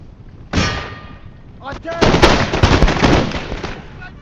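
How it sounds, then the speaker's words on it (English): Infantry fire a musket volley in the Empire Total War strategy game, a loud crackling roll of many overlapping shots that swells and lingers for a few seconds after an initial boom. "That was a really good volley."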